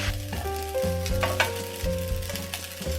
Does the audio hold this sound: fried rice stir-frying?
yes